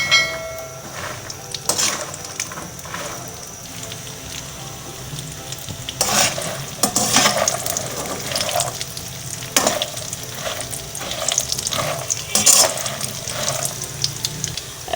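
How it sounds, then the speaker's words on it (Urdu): Dried fruits and nuts fry in oil over medium heat for panjiri, a constant crackling sizzle broken by repeated scraping stirs against the pan, close and loud with no talk. "یہ جو پنجیری میں ہم یہ میوہ فرائی کر کے ڈالتے ہیں"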